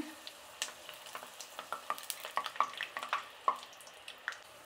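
Peanuts crackling and sizzling in hot oil while being fried and stirred, with a string of small sharp pops and crackles over a quiet background.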